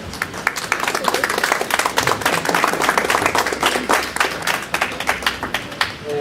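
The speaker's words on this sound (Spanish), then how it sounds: "les agradecería que lo recibiéramos con un aplauso" Seated listeners at a lecture applaud to welcome a speaker, steady clapping from many hands, fairly close and continuous, with a slight tapering near the end.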